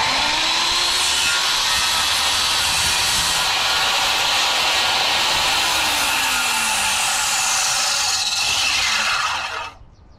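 A circular saw rips steadily through lumber for a heavy-duty chicken coop, a loud, continuous whining cut held close for nearly ten seconds before the blade winds down at the end.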